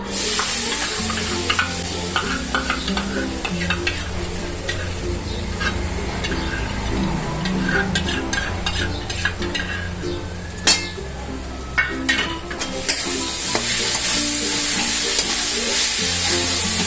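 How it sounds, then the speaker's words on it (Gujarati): Mango pulp is stirred into grated coconut in a hot pan: a steady sizzle with scraping stirring strokes and occasional clinks of a spoon against the pan, close and continuous, with no talking. "તો હવે આપણે એમાં આમનું પલ્પ છે એ ઉમેરી દઈશું."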